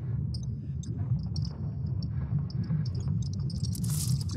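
Sonified data of Earth's magnetic field from ESA Swarm satellites forms a dense low rumbling drone, overlaid by sparse high chirps and crackles that thicken into a brief hiss near the end.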